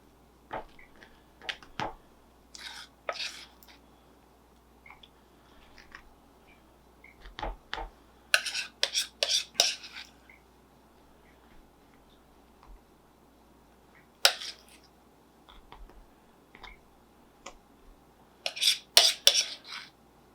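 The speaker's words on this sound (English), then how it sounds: "I'm just going to spoon this over each one" A spoon scraping and clinking against a bowl and plate while icing is spooned over warm homemade cinnamon rolls; quiet, intermittent metallic taps and scrapes in short clusters with pauses between, no talking.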